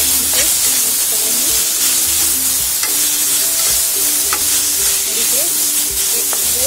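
Garlic paste and coriander powder stir-fry over lowered gas flame for a paratha filling, a continuous close sizzle with repeated scraping and stirring strokes against the pan.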